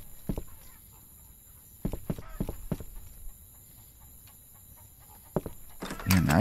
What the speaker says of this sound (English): Got chickens.